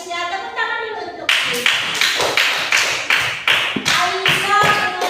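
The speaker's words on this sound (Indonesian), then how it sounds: "Tepuk tangan dulu untuk" A voice speaks briefly, then children in a classroom clap for a classmate in a rhythmic pattern of crisp, loud claps, with short pauses between each group of beats.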